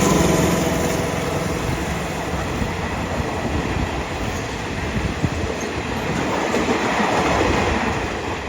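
Thai special express train no. 32 passing on a railway near Ban Meng community, a loud, steady rumble and rush of wheels on track held throughout, with no talk.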